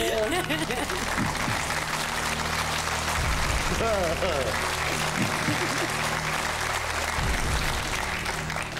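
Steady applause from a large studio audience on a television quiz show fills the whole stretch, with a few voices talking over it.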